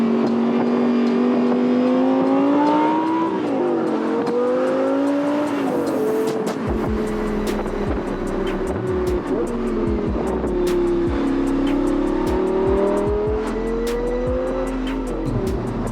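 Audi R8 GT with its V10 engine accelerating hard on a track, a loud close roar climbing through the gears with shifts, tire squeal and short bursts as it changes pace.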